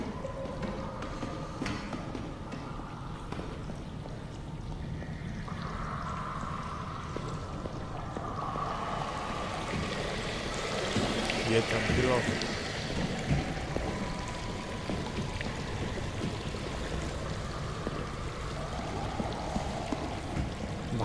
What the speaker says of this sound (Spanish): aquí hay mucha agua, ¿no?